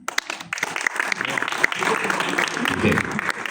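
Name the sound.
audience applause at a stand-up comedy show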